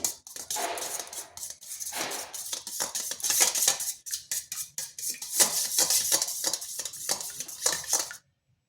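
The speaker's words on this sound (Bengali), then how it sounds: "ডিমটাকে একটু ফেটিয়ে নিচ্ছি" An egg being beaten in a bowl, with rapid clinking and scraping strokes of utensil against the bowl in quick irregular bursts, close and fairly loud, stopping abruptly at the end.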